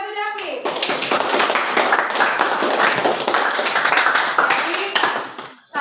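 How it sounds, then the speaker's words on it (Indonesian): Classroom applause for a student named David during an Indonesian teaching session: a few seconds of dense, steady clapping from a group of people, close and fairly loud, fading out at the end. "Beri aplaus kepada David."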